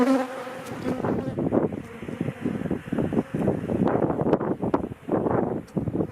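Honeybees buzzing around an opened hive during a spring inspection, a close, dense humming drone with individual bees zipping past the microphone, steady and loud with no talk.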